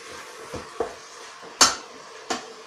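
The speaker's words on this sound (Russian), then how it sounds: "Теперь еще раз все это перемешиваем." Spoon stirring mushrooms, onion, carrot and spices in a multicooker bowl, a few scattered clinks and scrapes, two sharper knocks near the end, close and moderately loud over a quiet background.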